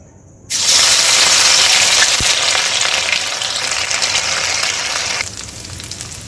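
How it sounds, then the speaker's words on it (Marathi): Ginger, garlic and green chili paste drops into hot oil in a kadhai with an abrupt, loud, close sizzle that crackles steadily for several seconds and then fades to a softer hiss. "कढईमध्ये किंचित तेल टाकलं आहे तेल आपलं गरम झालेलं आहे आता याच्यामध्ये आपण अद्रक लसूण मिरचीची पेस्ट टाकून घेणार आहे"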